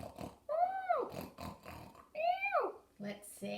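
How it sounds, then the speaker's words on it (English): A pig gives two sharp, squealing oinks among softer grunting snorts, loud and close. "It's an oinking, squealing sound, isn't it?"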